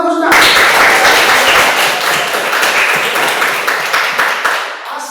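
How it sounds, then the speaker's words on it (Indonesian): A classroom group claps for a student during a teaching session, with sustained clapping that starts abruptly, stays fairly loud, and thins out toward the end. "tepuk tangan buat Husna"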